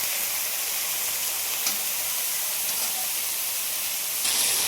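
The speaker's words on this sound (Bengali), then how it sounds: "রুই মাছটা একটু লাল লাল করে ভাজলে দেখতে ভালো লাগে, সেই জন্য একটু লাল লাল করেই ভাজছি।" Rohu fish pieces frying in oil for a curry, a steady close sizzle and hiss that holds evenly throughout and swells slightly brighter near the end, with no talk.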